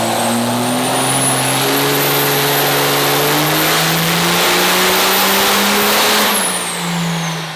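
A diesel truck engine, a third-generation truck with a new turbo and injectors, revving hard on a dyno and holding at high speed for several seconds, pitch climbing steadily, then easing off at the end.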